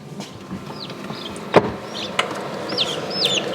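Newly hatched homestead chicks peep in a cluster indoors in a kitchen, steady high chirps repeating throughout, with a louder thump partway through.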